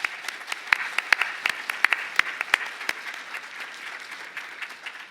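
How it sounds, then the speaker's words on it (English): A lecture-hall audience at an annual scientific meeting claps for a group of scholars at the close of a plenary session, the applause moderately loud and steady with sharper individual claps standing out. "I'd like you once again to give a big clap to these scholars."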